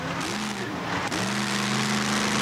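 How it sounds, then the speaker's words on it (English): Monster trucks on a clay dirt track roar past with loud engine revving and a shifting pitch as one accelerates. The sound is continuous, near and dense, and no one talks. "Then how about monster trucks?"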